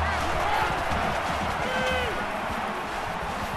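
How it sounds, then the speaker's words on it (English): Stadium crowd roar in the NCAA 14 football video game, Penn State hosting Ohio State, a steady dense wash of noise that holds at an even level throughout. "This crowd comes to play themselves."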